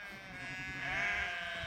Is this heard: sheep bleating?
yes